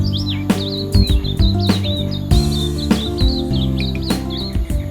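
Small silvereye birds, an Australian fruit-eating species, give rapid high chirps and warbling calls close by, repeated throughout over a low steady musical background.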